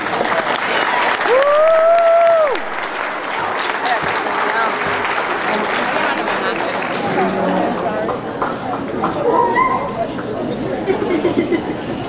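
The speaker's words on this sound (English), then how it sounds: "So please give a round of applause" Applause for a coach fills a football freshman banquet: loud, sustained clapping from a crowd, with chatter and a voice or whoop rising briefly near the start.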